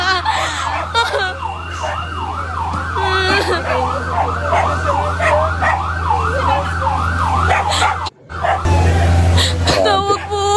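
A fire truck siren arrives at a large blaze, its loud wailing tone rising and falling steadily over engine rumble, with people talking and shouting alongside it.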